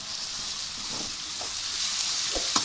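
Tomatoes sautéing with salt in a pan for a hotel-style vegetable kurma give a steady, close sizzle. Occasional soft knocks of stirring rise toward the end, and no one speaks.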